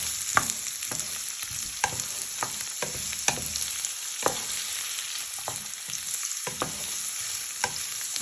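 Onion and garlic frying with chorizo in a pan, a steady close sizzle broken by frequent sharp clicks and scrapes of a utensil stirring, no voices present.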